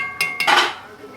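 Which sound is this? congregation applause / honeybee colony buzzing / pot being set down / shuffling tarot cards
pot being set down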